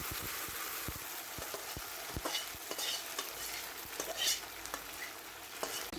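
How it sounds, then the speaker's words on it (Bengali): Beef frying in a pan with chopped ginger and spices, a steady sizzle broken by sharp scraping stirs and clacks of a utensil, close and fairly quiet, with no speech. "গোস্তটা ঢেলে দিলাম।"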